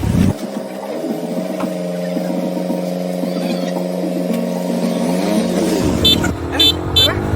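A motorcycle engine runs steadily, with a droning tone that shifts in pitch as the bike rides off. Speech is heard alongside it.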